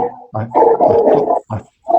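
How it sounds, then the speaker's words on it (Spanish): A dog barks close by in loud, rough bursts, one long drawn-out bark followed by shorter ones, alone without talk over it. "hay un perrito ahí"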